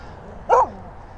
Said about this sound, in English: Where did this dog come from, man?